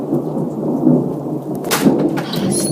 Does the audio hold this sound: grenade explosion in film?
no